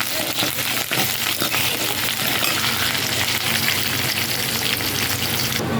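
Onions and curry leaves hit hot oil for tomato rasam, producing a loud, steady, close sizzle that fills the whole stretch without letting up and without any voices.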